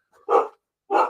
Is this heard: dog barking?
yes